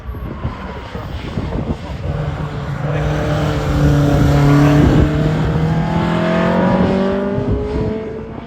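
A Mini Clubman race car climbing the Harewood hillclimb course, its engine rising loudly through the gears as it approaches and passes, with revving tones sweeping upward over several seconds and faint background chatter.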